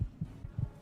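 Background heartbeat from the Fallout 3 video game, a faint low thumping pulse with a few soft beats in quick succession, alone without talk.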